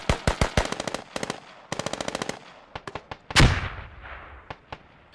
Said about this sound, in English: they're really using these the GLs. I can hear a lot of them popping off